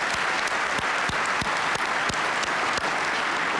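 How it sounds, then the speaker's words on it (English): Guests at a Rental Housing Association President's Award reception clap for award recipients, dense continuous applause with a few loud nearby claps punctuating it, no talking. "Another round of applause for our two recipients tonight"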